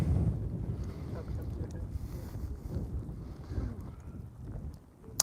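Wind blowing steadily in an open valley near an erupting volcano, a continuous low rumbling buffet against the microphone with gusts rising and falling throughout, no speech.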